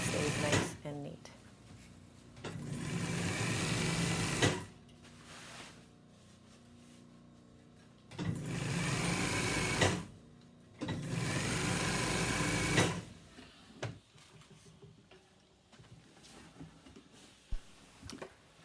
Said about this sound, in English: I'm just going to finish it off by sewing it in place.